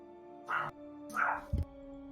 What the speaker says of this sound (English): my dog was going to bark for a second